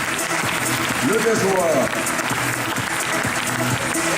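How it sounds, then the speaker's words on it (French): Audience applause fills a school gymnasium during an award ceremony as a trophy is presented, steady and close, with an announcer speaking over the clapping throughout. "que vous pouvez applaudir à nouveau, s'il vous plaît"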